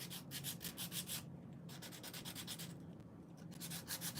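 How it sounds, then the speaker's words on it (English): A budget picture frame's edge being hand-sanded in quick rhythmic back-and-forth rubbing strokes, close and fairly quiet, with a brief pause between bursts and no talking. "I'm going to sand the edge here"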